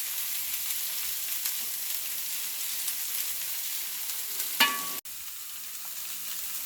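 Cabbage, capsicum, onion and carrot fry in a pan with a steady, soft sizzling hiss, broken once by a brief scrape and a sharp click near the end.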